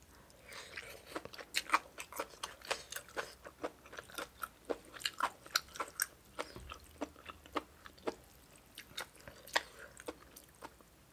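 Spicy Thai papaya salad with rice noodles being chewed up close, a steady run of wet crunches, bites and squishes with no voice.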